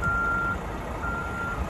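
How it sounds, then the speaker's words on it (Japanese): A tour bus outside the Angels ballpark sounds its reversing alarm, a steady high beep tone that holds for about half a second and then returns more faintly, heard over crowd and traffic noise. "これツアーのバスなのかな。"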